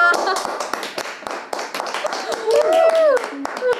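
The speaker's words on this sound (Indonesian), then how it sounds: "Tepuk tangan." Quick, sharp hand claps ring out in a scattered, uneven rhythm at close range, mixed with a voice speaking and sound-like vocal bits in between.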